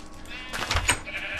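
Minecraft sheep giving a single short bleat, a brief wavering cry rising over quiet game ambience, clear and close with no talk.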